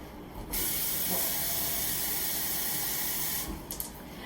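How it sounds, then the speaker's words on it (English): Tap water gushes into a jar in a steady, hissing stream for about three seconds, close and fairly loud, starting and stopping abruptly, with no voices. "I am going to get some water and just fill up the jar."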